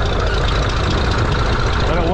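A diesel engine fuelled with gasoline runs in a loud, rough, steady roar with a heavy low rumble, close up and unbroken.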